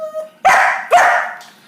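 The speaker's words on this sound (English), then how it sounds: "Excuse me, that's my dog." A pet dog lets out two loud, close barks in quick succession, each ringing briefly before fading, with a faint voice just before.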